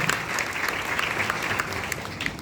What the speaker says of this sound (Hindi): आइए ताली बजाकर परमेश्वर का धन्यवाद करें।